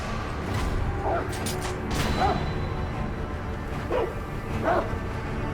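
Dogs in Sekiro: Shadows Die Twice bark and yip in short bursts at a moderate distance, a few separate barks over a rumbling game background with swishing movement.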